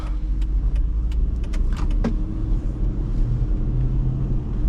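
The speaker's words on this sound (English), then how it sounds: "You can hear that rumble of the HEMI." The 5.7L HEMI V8 of a 2008 Chrysler Aspen rumbles steadily from inside the cabin during a drive, a deep low drone with a few faint clicks and rattles over it.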